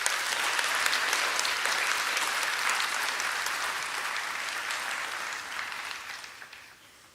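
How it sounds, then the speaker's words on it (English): Applause from an audience at a Galen College of Nursing graduation ceremony in Louisville fills the room in a dense, steady roar of clapping that tapers off at the end. "If we can give a round of applause to all recipients."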